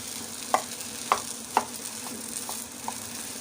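Aloo pyaz paratha filling roasts in a pan over a steady low sizzle. A few distinct scraping taps from stirring come at roughly half-second intervals and fade toward the end. No one speaks.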